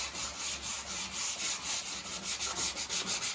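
Sandpaper scrubbing varnish off a wooden furniture piece in quick back-and-forth strokes, a close, rhythmic rasping that repeats steadily for a few seconds with no voices.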